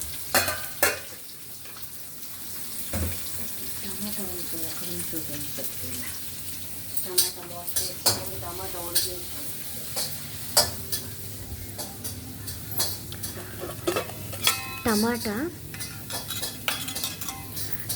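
Onions sizzle in a pan with scraping and stirring from a utensil, clinks of metal against the pan, and some quiet voices in the background.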